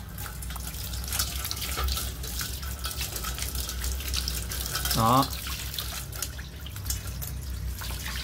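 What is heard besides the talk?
water hose spraying to rinse while cleaning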